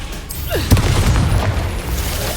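An Incendio fire spell is cast in Hogwarts Legacy, giving a booming burst over dense, continuous game noise, with one sharp hit standing out near the start.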